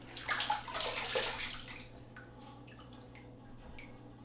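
Water splashes as a face is rinsed at a sink after a single-edge razor shave, a brief burst of splashing and dripping that fades into a few quiet, scattered drips.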